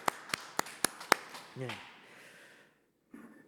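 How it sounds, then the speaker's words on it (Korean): Members of a Korean church congregation at a Sunday worship service clap in a few sharp, separate claps close by, then a short voice sounds and a brief quiet follows. "하나님께 영광의 박수 올려드립니다"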